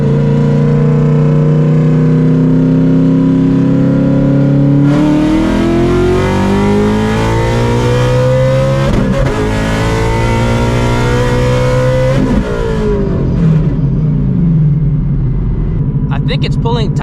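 An 800hp Shelby GT350 engine roaring through extremely hard acceleration pulls in cold air, loud and sustained, the pitch climbing steadily, dropping sharply at a shift, then rising again before cutting off.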